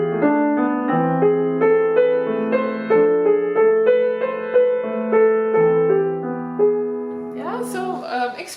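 Piano plays soft, sustained inner accompaniment chords from Tchaikovsky's Lullaby Op. 16 No. 1 in a slow, even rhythm, with overlapping inner notes and no melody on top; a brief noisy sound follows at the end.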